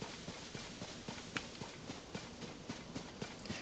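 Horse hooves clip-clop steadily in a fantasy adventure video game, a quick regular rhythm of soft hoofbeats running alone at moderate volume over a dense background wash.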